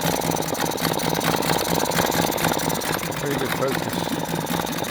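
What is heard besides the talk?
Mariner 3.3 hp outboard motor idling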